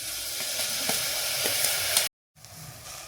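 Tomatoes hitting hot oil with reddening onions for a multi-veg kodo millet daliya give a loud, steady sizzle that fills the pan, cut off by a brief silence before the frying hiss resumes.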